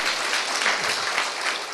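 Dense, sustained applause from a crowd, loud and even throughout with no pauses.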